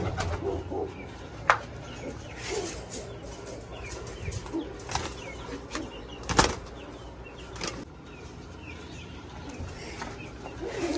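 Pigeons in a loft give soft, repeated cooing amid a few sharp wing flaps and scattered handling clatter, all close and moderately loud.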